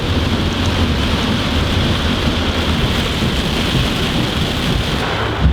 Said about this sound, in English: This rain's crazy.